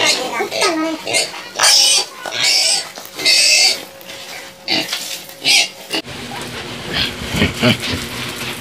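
A pig squeals in shrill, repeated bursts at a town fiesta in Magallanes, loud and close, with people talking and background commotion throughout.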